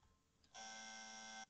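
An electronic buzzer from the Fugitive card game sounds one steady, loud sustained buzz lasting about a second after a brief faint blip, then cuts off.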